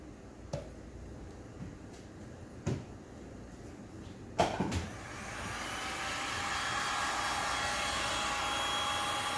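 A heat tool blows steadily over an epoxy resin flood coat on paintings, a broad airy hiss that starts abruptly and holds level, preceded by a few scattered clicks and taps.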